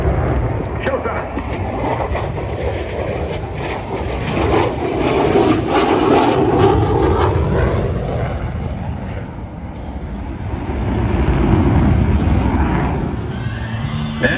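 Boeing F/A-18 Super Hornet "Rhino" jet flying a display at the Dayton air show in Ohio, a loud continuous engine roar that swells and fades over time, with crowd noise and talk mixed underneath.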